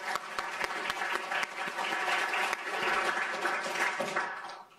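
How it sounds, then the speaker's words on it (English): Audience applauding at a keynote address during an academic symposium, a dense burst of many hands clapping that holds steady for several seconds before tapering at the end. "Can we get a quick round of applause?"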